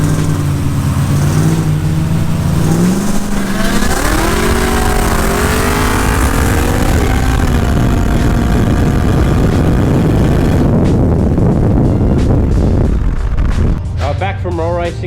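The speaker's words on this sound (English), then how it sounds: "Back from roll racing." Holden VL race car roll racing at Supernats, engine revving hard with rising pitch sweeps as it accelerates, loud and close, then fading into crowd and track noise near the end.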